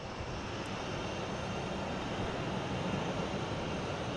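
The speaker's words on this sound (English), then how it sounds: "We got Aer Lingus coming in from Dublin, an A330-300" An Aer Lingus Airbus A330-300 arriving from Dublin, a steady distant broadband engine roar that holds fairly constant and faint throughout, with no voices.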